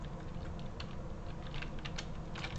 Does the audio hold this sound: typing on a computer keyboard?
yes